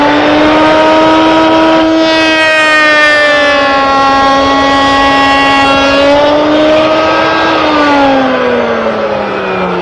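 A woodworking router with freshly changed bits cuts a sample piece for a beveled glass cupboard, giving a loud, steady high-pitched whine whose pitch drifts slightly as it runs, with no one speaking.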